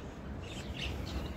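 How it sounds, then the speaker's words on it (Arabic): Lovebirds in an aviary chirp in quick, bright, overlapping calls over a steady background hum, close and lively, with no talking. "خلف الكواليس جبنا طيور حب"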